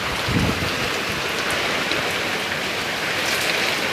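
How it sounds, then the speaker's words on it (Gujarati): Steady, close rain pouring down in a village on a cold, windy day, a continuous dense hiss with no talk. "આજે આમથી આવ્યો વરસાદ"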